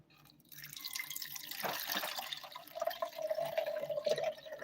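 Homemade apple cider is poured from a container, a close trickling and splashing stream that begins after a brief pause and runs steadily with small gurgles to the end.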